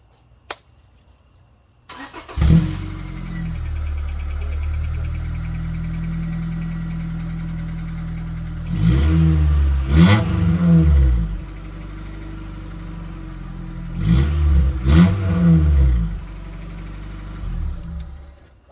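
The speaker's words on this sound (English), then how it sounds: "This is the car without a muffler. We're doing a quick startup around 12:30 a.m." A Honda Accord with a cheap catback exhaust and no muffler starts up late at night. The engine catches with a loud crank and settles into a deep steady idle, then revs up twice in short blips, with no talking.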